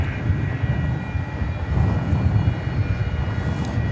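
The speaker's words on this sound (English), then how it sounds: "A spectacular jet, says Shamir." A jet airliner rolls along a runway at DFW Airport at night, a steady, loud, broad engine roar with a deep rumble holding throughout, no voices.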